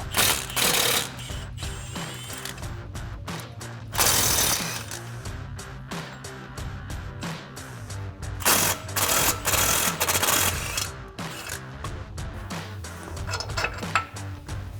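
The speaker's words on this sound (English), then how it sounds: "I got my impact with a short extension and 18mm swivel socket" An impact wrench fitted with a short extension and an 18mm swivel socket hammers at front axle bolts on a RAM 1500, firing in loud rattling bursts with clanks and tool knocks between them in a garage.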